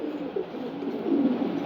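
Male pigeons of several breeds, including racers and giribaz, coo in a loft, a low steady murmur of overlapping calls that swells slightly toward the end, with no talking.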